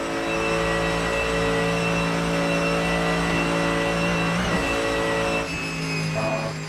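Race car engine in the Assetto Corsa driving sim, a Mercedes on the Nordschleife in fog, droning steadily at high revs with a strong harmonic tone that dips briefly then holds near and loud throughout.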